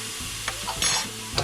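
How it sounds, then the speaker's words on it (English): Garlic frying in a pan with bacon about to go in, a steady close sizzle with brief stirring scrapes and clicks throughout, no talk. "you want to add roughly 3 cloves of garlic"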